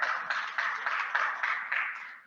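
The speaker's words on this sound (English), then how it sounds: "Just tell me, clap." Applause from an audience at an annual general meeting, a steady burst of many hands clapping with a few surging peaks, fairly close and continuous for about two seconds before tapering off.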